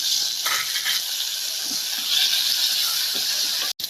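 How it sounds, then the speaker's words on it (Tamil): Tomatoes and shallots sautéing in a pan, a steady bright sizzle and hiss running throughout with slight swells, close and fairly loud, with no talking. "தக்காளி வெங்காயம் நல்லா வதங்கிட்டு இருக்கு."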